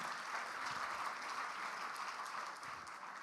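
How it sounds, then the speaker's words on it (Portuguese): A church congregation applauds in steady, dense clapping that stays even throughout and fades slightly toward the end, with no clear voices over it. "Você pode aplaudir ao Senhor,"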